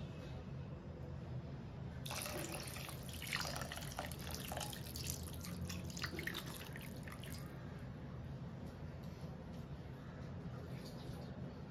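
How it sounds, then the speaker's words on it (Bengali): Water from rinsing a bowl is poured into a pan of doi katla fish curry, a soft, faint splashing trickle lasting a few seconds over a quiet kitchen background. "এখন আমি দিয়ে দিচ্ছি বাটি ধোয়া জল।"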